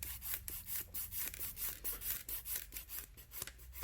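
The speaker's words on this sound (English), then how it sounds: "So I'm just going to file this down now so that I get it nice and smooth." Nail file rasping back and forth over an acrylic overlay on a fingernail, a steady run of quick, close strokes with an even scraping rhythm and no talk.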